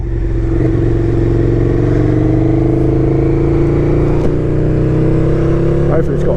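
A KTM Super Duke 1290 R motorcycle on a first ride, its engine droning loud and steady with rising revs and wind rush, as the rider speaks over it.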